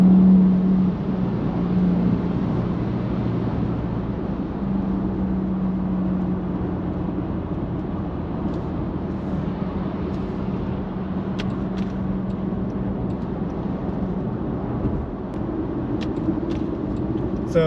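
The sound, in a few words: Jaguar XF X260 accelerating on kickdown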